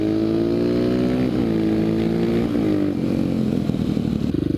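A Honda XR650R motard's big single-cylinder engine revving hard while riding, a loud, steady buzzing roar that rises and dips in pitch through the gears, close and continuous.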